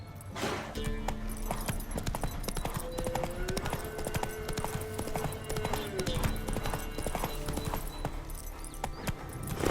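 In The Witcher 3 video game, a horse gallops with rapid rhythmic hoofbeats, fairly near and continuous, along with a brief neigh and faint game sounds in the background.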